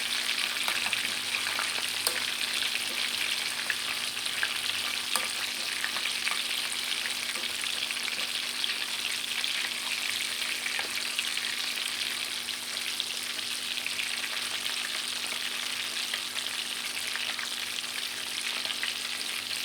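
Mozzarella-stuffed escalopes fry in a pan with a continuous, even sizzle and fine crackling that hold steady throughout, with faint occasional ticks and no voices.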